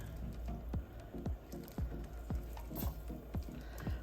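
Curried chickpeas stirred in a pot, giving a steady run of soft wet squelching strokes, about two per second, close up over a constant low stove hum, with no talking.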